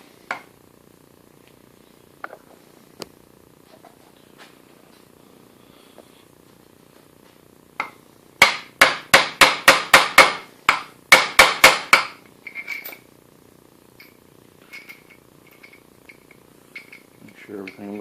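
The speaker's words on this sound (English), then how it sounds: "So I should be able to drive that together now." Hammer driving washers and a bearing together on a Harbor Freight belt sander knife grinder build: a few scattered light knocks, then a fast run of about a dozen sharp metallic blows, then quieter taps.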